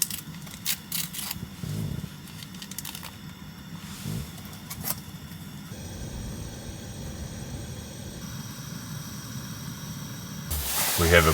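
Water coming to a boil for coffee inside a compact camper van on a rainy morning: a steady hiss and bubbling rumble that swells louder toward the end, with a person's voice speaking briefly over it.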